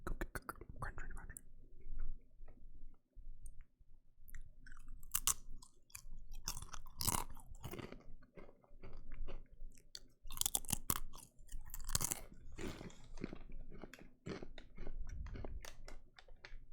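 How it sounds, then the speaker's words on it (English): Crunchy pretzels chewed right up against the microphone, giving a steady run of close, crackly bites and crunches with soft breathy whispering mixed in. "Maybe if I eat the pretzels really close to the microphone, you'll be able to hear me eating them with that crunch."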